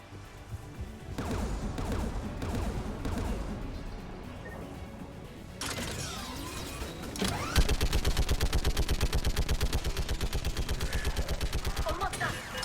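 Enemy gun fires during a Mass Effect 3 video game battle: after scattered crashes and blasts, rapid evenly spaced bursts hammer on steadily through the second half, loud and close over a background of game sound.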